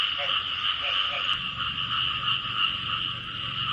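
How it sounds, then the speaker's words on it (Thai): A dense chorus of frogs croaks steadily at night, a continuous high trilling drone with a few lower croaks early on, moderately loud and unbroken for the whole stretch, with no voices. "เออเสียงกบ เสียงเขียดจะมันห้องดีเนี่ย"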